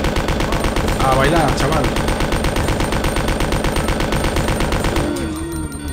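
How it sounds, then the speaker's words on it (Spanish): Sustained machine gun fire from Claire's weapon against zombies in the 1998 PlayStation Resident Evil 2, a continuous loud rattling burst lasting about five seconds before cutting off, with someone briefly speaking over it. "Voy a usar mi ametralladora, que tengo unas ganas."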